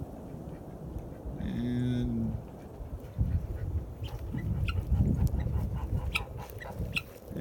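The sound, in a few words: geese honking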